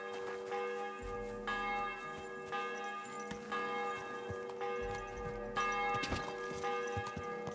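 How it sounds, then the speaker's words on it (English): Church bells in the medieval world of Kingdom Come: Deliverance II ring out in repeated, resonant strikes with long overlapping decays, heard clearly alone with no talk. "The bells."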